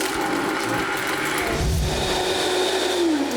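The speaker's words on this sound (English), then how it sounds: "We're using a Vitamix blender." A Vitamix blender whirs steadily while blending a smoothie, loud and close, with a continuous motor drone that shifts pitch partway through as the contents churn.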